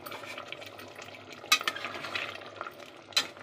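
A spoon stirs spice powder into mutton paya gravy in a pot, giving a steady wet scraping and bubbling texture with two sharper clinks of utensil against metal, close up and with no talking.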